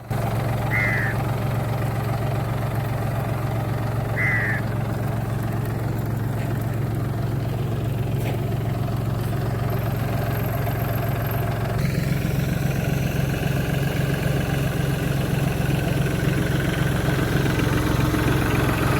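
A tractor engine drones steadily and low while sowing pulse crops on a farm, a constant mid-low hum that thickens slightly partway through, with no voices.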